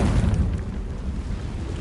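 A Confringo spell explosion in the video game Hogwarts Legacy, a deep booming burst at the start that rumbles on and slowly fades.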